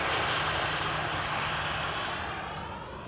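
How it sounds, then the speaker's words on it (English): A landing airliner's thrust reversers at Amsterdam Schiphol Airport roar as a broad, loud engine rush that slowly fades over a few seconds, with no voices. "Ooh, reversers."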